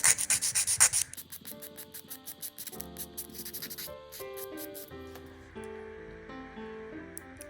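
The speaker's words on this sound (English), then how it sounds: "We're just going to use the buffing block and we're just going to buff out the nail" A buffing block rubs across a fingernail surface in quick, rhythmic scratchy strokes, loud and close at first, then softer beneath background music.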